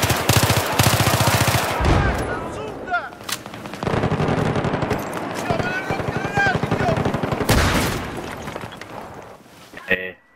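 Gunfire in Battlefield on the Grand Bazaar map, with a sniper rifle among it: dense crackling shots and bursts run through most of the clip, loud and close, with a sharp burst near the end and voices talking over it.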